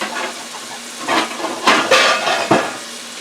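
Peppers frying in a pan for a smothered steak dinner give a soft sizzle, joined by a few clattering knocks and scrapes of utensil on cookware in quick succession, with no talking.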